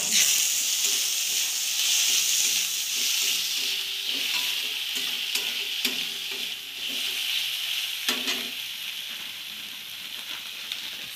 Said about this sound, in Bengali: কেটে রাখা টমেটো গুলো দিয়ে দেবো